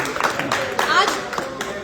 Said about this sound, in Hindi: आकाश गुरु जी के लिए एक बार जोरदार ताली होनी चाहिए।